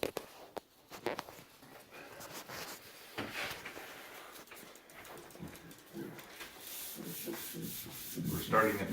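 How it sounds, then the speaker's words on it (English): Sandpaper rubbing over a wooden gun stock, steady scratchy strokes working near and close, rising in intensity toward the end, with no talk. "she's going to film me sanding"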